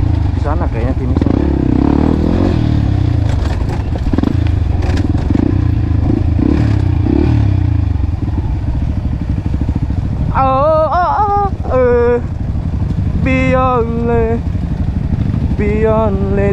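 A motorcycle on a rough mountain trail in Cikalong Wetan, Bandung, a loud, steady engine drone with clattering and scraping from the terrain, while a voice speaks over it in places.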